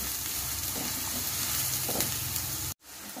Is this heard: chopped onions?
yes